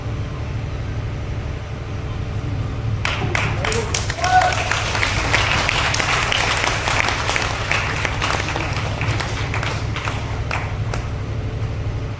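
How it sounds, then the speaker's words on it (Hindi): At a network marketing anniversary event, a large hall crowd breaks into loud, sustained applause after a few seconds of humming room noise, dense clapping carrying on steadily to the end. "जबरदस्त तालियां।"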